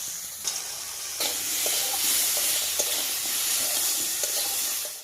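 Crabs sizzle steadily in a pan of oil seasoned with turmeric, salt, ginger paste and bay leaf, a dense close-up hiss with a few soft clicks of stirring and no talking.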